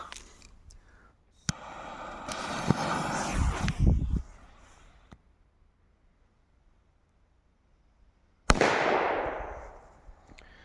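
A Triplex matryoshka firecracker goes off outdoors with a sharp bang, followed by a burst of crackling and hissing, then a quiet pause before another loud blast with a fading noisy tail.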